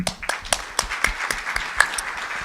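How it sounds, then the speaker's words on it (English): Sparse audience applause for Supervisor Ridley-Thomas at a regional meeting on economic development, scattered individual claps close by in an uneven rhythm, a small group rather than a large crowd. "let's give Supervisor Ridley-Thomas a round of applause, please."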